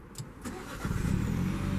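2016 Mini Cooper S with a 6-speed manual starting up, a short starter crank followed by the engine catching and settling into a steady close idle.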